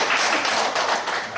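A church congregation applauds during a Sunday service to welcome two guests, producing a brief, steady burst of dense clapping from many hands in the room.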